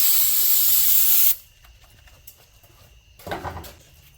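Cleaner sprayed onto a Cat 300.9 mini excavator track tensioner during seal work: a loud continuous aerosol hiss for just over a second, then quiet, with a short fainter burst of spray or handling noise near the end.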